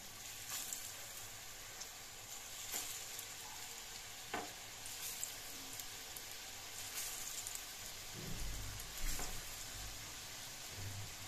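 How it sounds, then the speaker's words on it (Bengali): Food sizzles steadily in hot oil in a large nonstick pan over a lowered gas flame. The frying is soft and continuous, broken by a few light clicks and stirs, with no talking. "প্যানের তেলটা গরম হয়ে গেছে, এবার কয়েকটা করে দিয়ে আমি একসঙ্গে ভেজে নেব"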